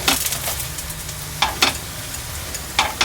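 Sweet potato bhakshalu fry in hot oil with a steady sizzle, broken by a few sharp spatters and crackles as pieces are turned or added.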